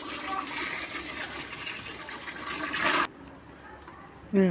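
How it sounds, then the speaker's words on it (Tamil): Water pours in a steady, rushing stream into a cooking pot for biryani for about three seconds, then stops, leaving a quiet room and a brief clatter. "ஆறு படி தண்ணி அளந்துக்கலாம் அதை அப்படியே ஊற்றிக்கலாம்"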